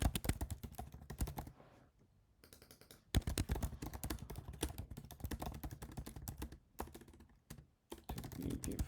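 Fast typing on a computer keyboard, bursts of rapid clicks broken by short pauses, close and alone while text goes into a website editor.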